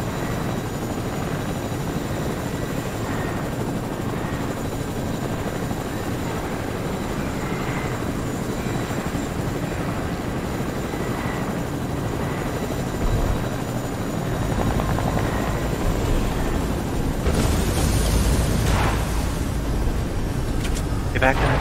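A video game helicopter's rotor drones loud and steady through the whole stretch, with voices occasionally heard under it.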